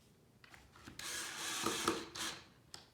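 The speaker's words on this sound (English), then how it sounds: "I'm just installing these screws into these pocket holes." A power drill drives screws into pocket holes in a wooden farmhouse shoe bench, giving a few short, faint whirring bursts with wood friction and a brief pause between screws.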